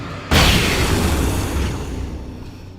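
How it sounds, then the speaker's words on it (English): A grenade going off in a video game, a sudden loud boom followed by a rumbling decay that fades over about two seconds. "Chuck a grenade down in that hole."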